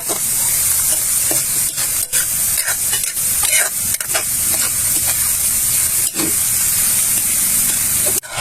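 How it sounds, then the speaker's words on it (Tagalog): Oregano and lemongrass stirred in boiling cooking oil, a loud, steady sizzling hiss that runs without a break, with occasional scrapes and clicks of the stirring utensil. "Patuloy lang po itong haluin sa kumukulong mantika sa loob ng 10 to 15 minutes"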